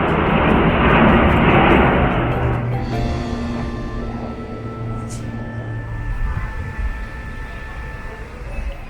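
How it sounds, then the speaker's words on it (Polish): An airplane flies over a stupa in Nepal, its engine drone loud at first and then thinning into a fading whine, with street ambience around it. "O, samolot leci nad stupą."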